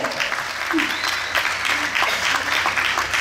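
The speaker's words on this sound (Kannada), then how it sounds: "ಜೋರಾದ ಚಪ್ಪಾಳೆ" An audience at a cricket trophy presentation ceremony breaks into loud, sustained clapping, dense and even throughout, with faint voices mixed into the crowd.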